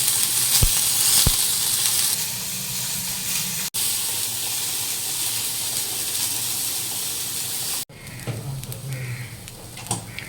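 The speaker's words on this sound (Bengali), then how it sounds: "করলা ভাজা হচ্ছে পেঁয়াজ দিয়ে" Bitter gourd slices frying with onions in a pan, likely an earthenware pot, giving a steady close sizzle and hiss that runs throughout, broken by two brief cuts, with a faint stir or clink near the end.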